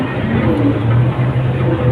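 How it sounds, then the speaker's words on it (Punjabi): A tractor engine running at a maize field, a loud steady low rumble close by with no talk. "ਟਰੈਕਟਰ ਆਇਆ ਖੜਾ"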